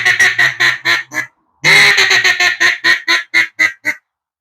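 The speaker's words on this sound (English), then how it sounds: "this is a teal call, and this is what it sounds like," A teal duck call blown in a quick series of sharp, nasal quacks, a short burst, a pause, then a longer descending run of rapid quacks, close and loud.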